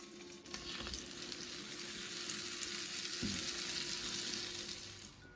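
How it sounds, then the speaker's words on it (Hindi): French toast frying in butter in a pan, a steady close sizzle with crackling throughout and a soft knock of the utensil partway, no voices. "इसी तरह बाकी के सारे फ्रेंच टोस्ट भी फ्राई कर लेंगे"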